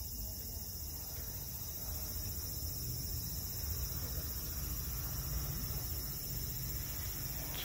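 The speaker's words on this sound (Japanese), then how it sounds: "つくつく帽子のね、声がね、ちらほら聞こえてきますね。" A continuous high-pitched tsukutsukuboshi cicada drone fills the background in a park in late summer, faint and distant, with a low outdoor rumble underneath and no voices.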